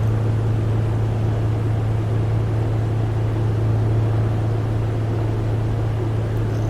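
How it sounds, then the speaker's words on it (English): Nearby jet aircraft engine, a Saber flying alongside in the Prepar3D flight simulator, a loud continuous low drone with a steady hum, unchanging throughout and without voices. "That Saber there, he's flying with us, so you can hear his engine."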